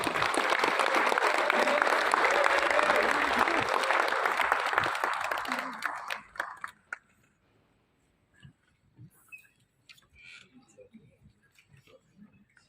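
Audience applause at an international film event, welcoming actor Julius Basayamon on stage; loud, dense clapping for about six seconds then cutting off, followed by sparse faint claps and quiet room noise.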